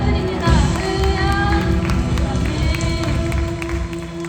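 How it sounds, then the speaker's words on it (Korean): A congregation claps during a youth worship service at a Korean church, producing a dense, steady patter of hands from a crowd, mixed with ongoing worship music. "하나님께 영광의 박수 올려드립니다."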